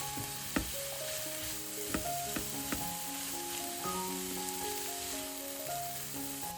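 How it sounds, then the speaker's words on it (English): A seasoned mix sizzles steadily in a pan while being stirred, with a soft continuous frying hiss and a few light clinks of the utensil, fairly quiet and with no talking. "Stir everything well so the flavors combine evenly."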